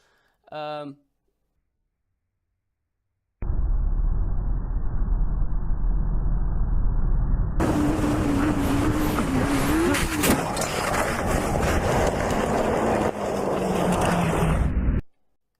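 A motorcycle and a semi-truck collide on a road, heard as a loud sustained burst of engine and road noise with a rising whine and broadband impact-like roar, cut abruptly at both ends after a brief vocal shout.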